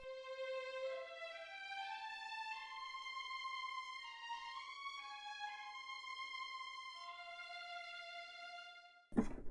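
Cinematic Studio Strings first violins sample library plays a slow legato melody of sustained notes that glide smoothly from one pitch to the next, close and alone with no talking, ending in a brief thump.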